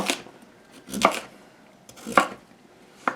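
A knife chops down through a turnip on a cutting board, making three separate firm thunks about a second apart while a root vegetable is sliced into big planks for beef stew. The cuts are close and crisp, with no talking.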